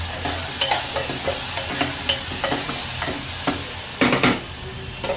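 Chopped tomatoes and a little coriander cooking in a hot dal tempering, a continuous close sizzle with repeated spoon scrapes and clatters against the pan, louder bursts near the end, no talking.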